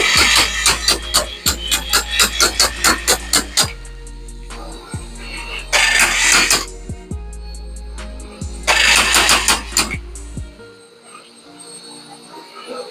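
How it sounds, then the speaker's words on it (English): A new washing machine motor runs on a test bench, starting and stopping in repeated cycles with a steady low hum and rapid ticking bursts in between, loud and close with no talking. "So we are testing the new motor."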